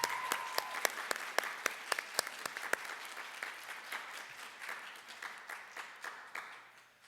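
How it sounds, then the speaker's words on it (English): Sparse, fairly quiet applause for student artists at a high school fine arts festival, with distinct individual claps standing out early and the clapping thinning and fading toward the end. "So please give these also artists a round of applause."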